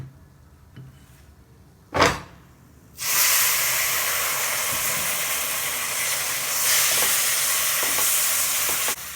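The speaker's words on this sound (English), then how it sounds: "Keep mixing it, keep stirring it." Pineapple and roasted semolina for a suji halwa are stirred in a hot pan, beginning with a few scrapes and a clatter before a loud, continuous sizzling hiss takes over and holds to the end, with no talk.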